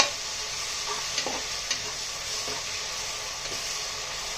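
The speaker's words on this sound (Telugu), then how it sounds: "అది పచ్చివాసన పోయేదాకా వేపుకుందాం." Ginger garlic paste frying in hot oil for chicken biryani, a steady soft sizzle with a few scraping stirs of a spoon against the pan, no voices.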